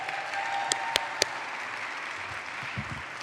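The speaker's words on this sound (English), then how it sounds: "Let's give her a big round of applause." Audience applause at an anniversary gala for a community organization, a steady dense wash of clapping from a crowd, even and sustained with a few sharper individual claps standing out near the start.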